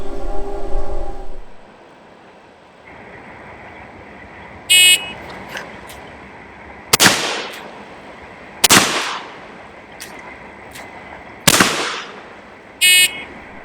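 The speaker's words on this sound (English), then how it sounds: "this one takes place from 30 feet and I fire 3 shots" Cap and ball revolver shots fired during a timed qualification course: three loud, sharp reports spaced a couple of seconds apart, each with a decaying echo, plus brief electronic timer beeps before and after, no talking.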